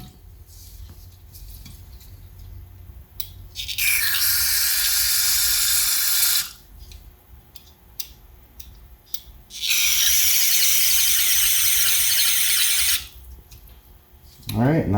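Two long, loud bursts of aerosol spray hiss into the holes of a carburetor during cleaning, each lasting a few seconds, separated by a quieter gap with faint handling noise.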